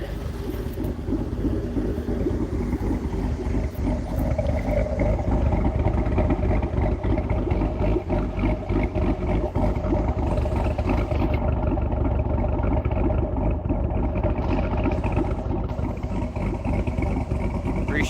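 A 2013 C6 Corvette's LS3 V8 with an aftermarket cam idles steadily and loudly up close, a continuous low rumble with a choppy, lopey pulse running through the whole stretch.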